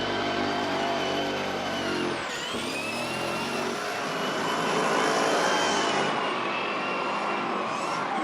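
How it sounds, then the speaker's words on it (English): Supercharged BMW E36 drift car at a drifting event, its engine roaring steadily with a high, sustained supercharger whine running through the whole stretch, a brief dip as it shifts, loud and close. "we hear the supercharger whining, the classic whining noise of the supercharger"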